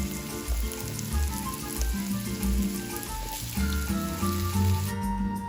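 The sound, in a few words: lima beans sauteing in a pot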